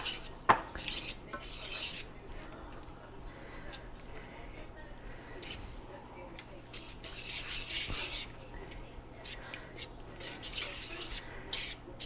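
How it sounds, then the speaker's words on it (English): Onions are stirred into liver-drippings gravy in a pan with quiet scraping of a utensil and a soft background sizzle, moderately close, as a person talks over the cooking. "And at this point, we're going to add the onions back to it."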